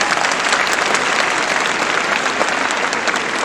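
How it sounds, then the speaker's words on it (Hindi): An audience at an Indian language festival and award ceremony for meritorious students and teachers bursts into loud, sustained applause, a dense, even roar of clapping filling the hall. "जोरदार आपकी तालियां होने चाहिए।"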